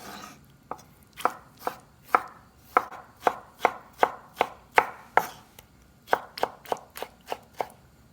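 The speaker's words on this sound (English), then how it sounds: "So I'm just going to be using a chef's knife for this. Begin slicing them across." A chef's knife slicing through tomatoes on a cutting board, about fifteen crisp, evenly spaced chops that come close and clear in a steady rhythm, with a brief pause partway through and no talking.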